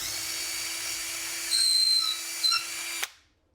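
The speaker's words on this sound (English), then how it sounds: "Drill a hole through the center of the dowel in the middle of the length." A power drill bores a quarter-inch hole through the center of a wooden dowel, a steady high whine for about three seconds with brief louder bites before it stops abruptly and fades into silence.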